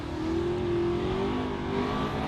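A big block Holden panel van roars off the line at a drag strip, its engine revving hard in a loud sustained rising drone heard from nearby.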